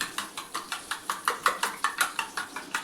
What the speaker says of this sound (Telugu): వేసుకొని బీట్ చేసుకోవాలి, బాగా బీట్ చేసి పెట్టుకోవాలి.